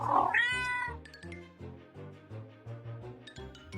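A ginger cat meows loudly at the start, a drawn-out wavering cry, followed by a steady tonal musical backing with light chimes.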